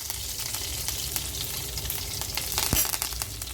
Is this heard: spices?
yes